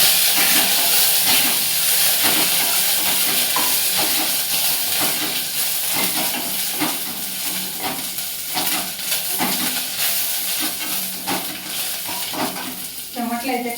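Fresh curry leaves hitting hot oil for tomato rasam, a loud continuous crackling sizzle with sharp spits and pops, close up, occasional stirring scrapes, no voices.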